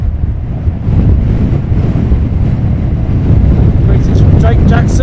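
Strong gusty wind at Luton Airport buffets the microphone with a loud, constant low rumble and roar that swells slightly partway through and never lets up.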